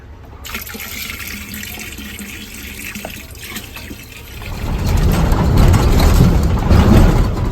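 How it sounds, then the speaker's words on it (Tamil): Tap water pours steadily into a can, growing louder and fuller partway through as it fills, with a faint engine hum beneath. "தண்ணி மட்டும் பிடிச்சி ஃபுல் பண்ணிட்டு போயிடலாம் கேனுக்கு"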